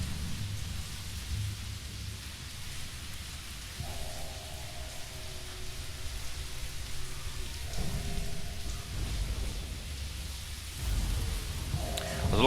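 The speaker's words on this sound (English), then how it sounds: "It's a storm outside." Storm rain falls steadily outside a large nearby window, a continuous broadband hiss with low rumbles swelling toward the end, with no talk over it.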